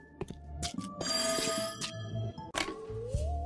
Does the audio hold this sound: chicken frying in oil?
no